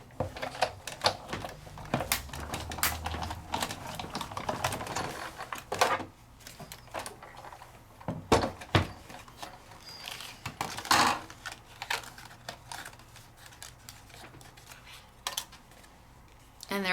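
Die cutting machine pressing paper through a 3D embossing folder in a craft class, heard as a run of close clicking, clacking and ratcheting mechanical taps with a few pauses, fairly loud and steady throughout.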